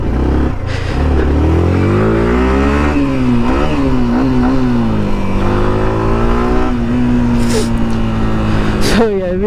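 A 2023 Yamaha R15M 155cc motorcycle exhaust revs up and down close by, its loud, rising and falling engine tone carrying steadily through the whole stretch.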